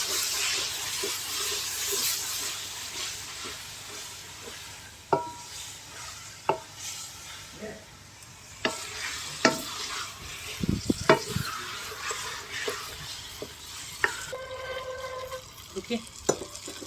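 Raw mango pieces cook in oil-released masala for a Rajasthani kairi sabzi, a soft sizzle broken by scattered spoon scrapes and clinks of stirring, close and fairly quiet, with faint voice in places.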